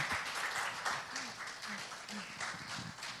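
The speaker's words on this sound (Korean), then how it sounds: "한번 감사의 박수 보내주시죠" Congregation at a Tuesday women's worship service in a Pyeongtaek church applauding, a steady wash of clapping held at an even level throughout, with faint voices underneath.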